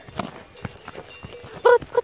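Horse hooves break into a trot along a path in the dark, a few soft irregular clops under light rustling, with a voice briefly speaking near the end.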